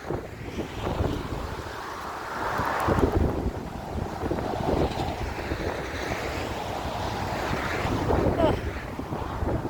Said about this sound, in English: the actual wind's coming from the side